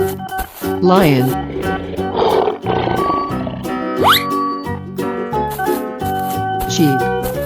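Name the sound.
lion roaring in a 3D animal video game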